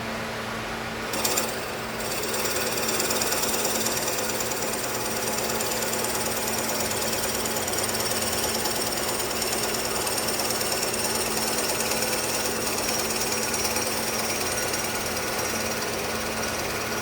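A drill bores about an inch deep into a piece of oak held centered in a wood lathe's chuck, giving a steady, loud, continuous grinding whir that runs unbroken for the whole stretch after a brief start.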